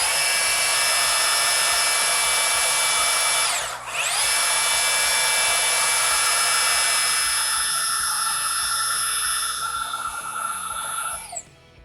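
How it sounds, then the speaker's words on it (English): A handheld Ryobi battery-operated sander clamped in a vise runs at a loud, close, high whine while rounding off corners, with one brief dip in speed partway through and a spin-down at the end. "take the battery operated sander and put it inside my vise"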